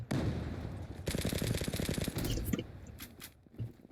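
Rapid gunfire in the online shooter Zula, bursts of quick rattling shots that come in a dense volley mid-clip, followed by a few scattered single shots, moderately quiet overall.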